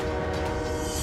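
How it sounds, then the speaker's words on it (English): Northbound train approaching a railroad crossing where a truck and car are trapped, heard as a loud sustained horn blast with rumbling rail noise underneath. "The train is just seconds away"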